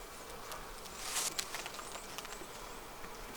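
Honeybees droning at a hive in winter, a faint continuous buzz with a short louder burst near the middle and some light patter or rustling, no talking.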